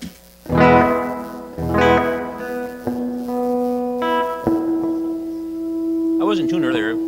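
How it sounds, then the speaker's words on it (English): Electric guitar chords and sustained notes ring out through a cathedral reverb effect with lush reverb tails, strummed strongly then held, ending with a wavering bent note. "what we have going here, this is reverb."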